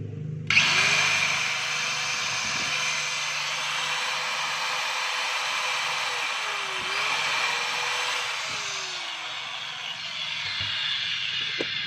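DeWalt DW810 bench grinder running on test, a continuous high motor whine with a slight pitch drift, steady and close for the full length, with occasional faint knocks underneath.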